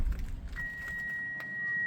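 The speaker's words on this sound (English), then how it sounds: "But if you leave the keys in the car and close the door, the car still beeps." A steady electronic beep tone sounds from a Kia EV5 GT-Line as the door closes with the keys left inside, faint under low engine-like rumble and a jingle of keys at the start.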